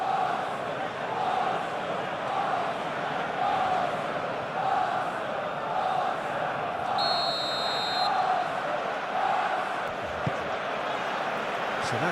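Stadium crowd in the eFootball PES 2021 video game, a steady roar of distant voices at a constant level with faint swells and a brief tonal chime partway through, no close speech.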